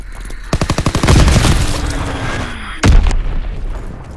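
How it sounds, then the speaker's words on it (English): Fritz X bomb blasts and rapid gunfire in a Call of Duty WW2 multiplayer match: a loud burst of automatic fire rolling into a heavy explosion, then another booming blast with more shots after. "Fritz X bomb mission underway."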